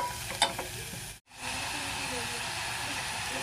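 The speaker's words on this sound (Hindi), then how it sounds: "इसको अच्छी तरह से हमें भूनना है।" Finely minced meat frying in a pan gives a steady close sizzle and hiss after a brief stir and a short gap, with no talking.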